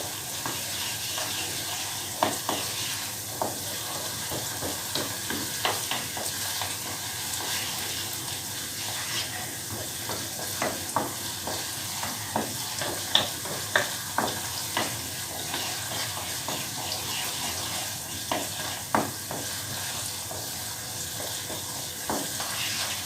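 A meatless filling for stuffed cabbage rolls sautéing in a pan on a home stove: a steady, close sizzle runs throughout, broken by regular scraping knocks of a spoon as it is stirred.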